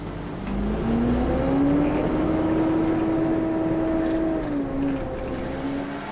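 A MAN X65 tractor with a ZF 16-speed gearbox, built in Munich between 1994 and 2006, is driven on a farm. Its engine drones steadily and loudly, rising slightly in pitch, then dropping back near the end, with no talk.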